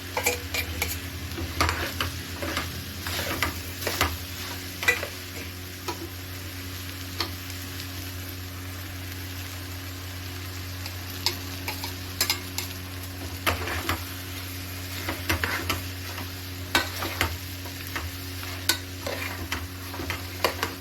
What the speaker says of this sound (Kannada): ಆಮೇಲೆ ರುಬ್ಬಿರುವ ಈ ಪೇಸ್ಟ್ಗಳನ್ನೆಲ್ಲ ಮಿಕ್ಸ್ ಮಾಡ್ಕೋಬೇಕು.